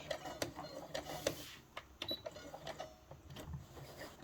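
A sewing machine back stitches and then forward stitches a seam in fabric, giving a steady run of close mechanical needle clicks and whirring bursts with short pauses between passes.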